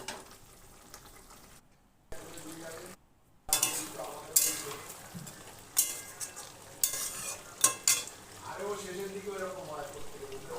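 Crabs frying and being stirred in a pan while a crab curry is cooked, steady sizzle with scraping stir strokes and utensil knocks, fairly close, with speech-like clatter in places.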